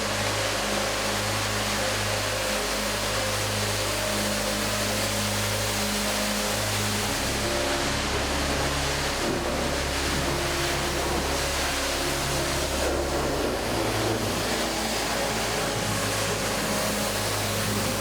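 A loud, constant hiss of a pressure washer blasting caked-on mud off a tractor fills the whole stretch, with a low engine-like drone underneath that shifts slightly partway through.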